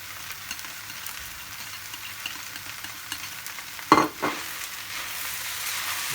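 Egg frying in a pan for chicken fried rice, a soft steady sizzle broken near the middle by a sharp scrape-and-clatter of stirring, then the quiet hiss carries on.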